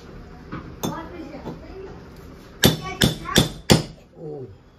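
Four loud, sharp hammer blows land in quick succession during home cleaning and fitting work, each ringing metallically, preceded by a few lighter knocks and brief talk.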